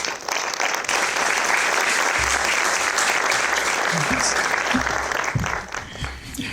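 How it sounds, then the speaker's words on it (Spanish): An audience at a conference session applauds to welcome speaker Carlos Martínez Quivel, a steady, dense wash of clapping lasting several seconds before tapering slightly at the end. "recibimos con una aplauso a Carlos Martínez Quivel para esta sesión"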